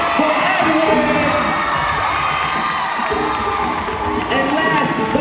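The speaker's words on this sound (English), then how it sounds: "a round of applause for Adrienne." A school crowd at a youth piano slam cheers and claps for a contestant, loud whoops and shouting voices mixed with applause in a sustained, boisterous roar.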